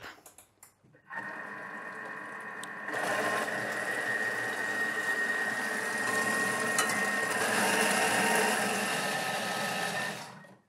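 A blender purees pea soup in a kitchen with a loud, steady whir close by. The whir starts after a short moment and rises to a higher speed partway through, then cuts off near the end.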